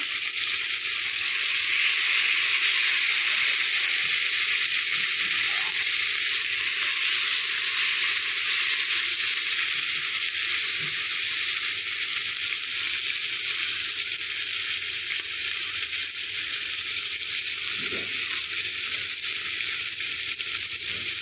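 Steady, close sizzle of a tempering frying in a pan for ivy gourd chutney, an even hiss that carries on alone without talk for around twenty seconds.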